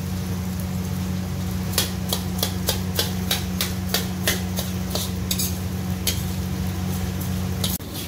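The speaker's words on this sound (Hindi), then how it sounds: "इसको हम घी के अंदर फ्राई कर रहे हैं" Edible gum (gond) frying in hot ghee gives a steady sizzle under a loud machine hum, punctuated by a rapid run of metallic stirring clanks against the pan.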